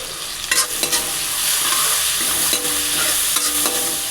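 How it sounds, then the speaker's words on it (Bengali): Chopped tomatoes and onions, seasoned with salt and turmeric, fry in a pan with a loud steady sizzle, punctuated by repeated sharp scrapes and clanks of a spatula stirring against the metal pan. "কিছুটা সময় টমেটোটা ভাজতে থাকবো।"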